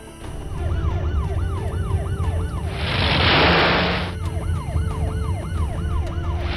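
A police car siren wails in a loud, fast repeating up-and-down sweep, broken in the middle by a burst of hissing noise before the wail resumes over a steady engine rumble.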